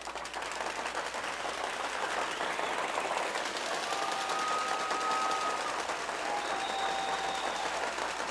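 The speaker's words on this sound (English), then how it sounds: "So I'd like to give Joe a huge round of applause" Sustained audience applause at a keynote event in Chicago, steady dense clapping throughout with no talk over it.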